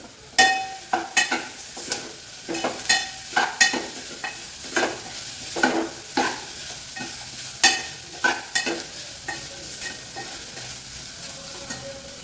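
Ground coconut mixture frying in a pan with a pinch of turmeric, heard as a steady soft sizzle broken by repeated scraping stir strokes at an uneven rhythm, close and moderately loud, with no voices.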